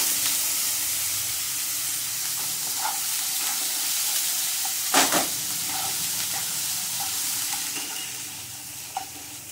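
Carrots fry in a pan for upma, giving a steady sizzle and hiss, with scraping stirring strokes, a sharper clatter near the middle and small scattered clicks throughout.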